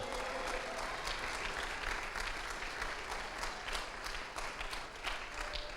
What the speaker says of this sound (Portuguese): você devia aplaudir ao Senhor por isso